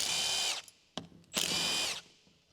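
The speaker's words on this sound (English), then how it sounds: "Use a large-size 10mm deep socket with an electric impact wrench to remove the" An electric impact wrench fitted with a large 10mm deep socket spins off the drive shaft support bearing bolts on a 2011 Ford Explorer 3.5L, in two loud whirring bursts separated by a sharp clack and brief pause.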